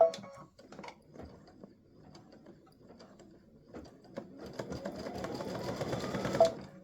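An embroidery machine stitches a butterflies and hibiscus design, starting with scattered clicks and handling noises, then settling into a steady, rapid mechanical whirring and ticking that grows louder toward the end.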